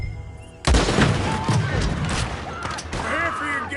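Gunfire in the game Red Dead Redemption 2: after a short quiet, a loud close blast opens a burst of several shots and clatter, with voices shouting over the tail.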